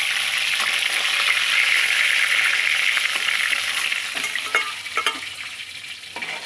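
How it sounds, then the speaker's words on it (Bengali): Snakehead fish pieces frying crisp in oil, a loud, continuous close sizzle that eases slightly toward the end, broken by a few sharp spatters. "ঠিক এইভাবে মাছগুলো ভেজে নিতে হবে"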